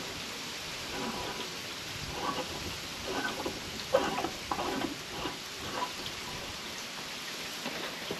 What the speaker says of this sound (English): It is nasty out. Raining, kind of sleeting.